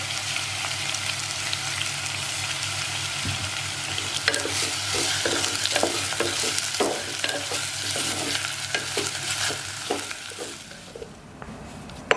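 Onions sauté with a little salt in a pan for a clay pot biriyani, a bright constant sizzle broken by a run of sharp, close spatula scrapes and stirs in the second half, with no talking.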